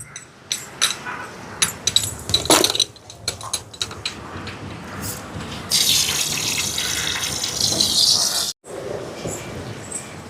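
Rice being washed in water for chicken rice: running water, sloshing and clattering of grains against a vessel, with a louder steady stream of water in the second half, close and alone.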